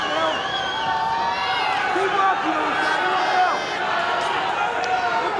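A fierce, loud crowd roars continuously at a BAMMA 6 MMA fight between Sam Watling and Leigh Cohoon, a dense sustained wall of cheering and shouting with rising swells.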